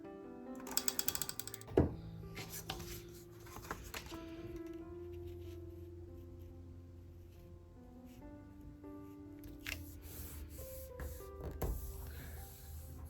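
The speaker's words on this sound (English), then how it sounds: "I'm going to use runner tape for a lot of this" A runner tape dispenser rolls adhesive tape onto paper with ratcheting clicks and mechanical whirring, several short bursts among tonal background music, close and quiet.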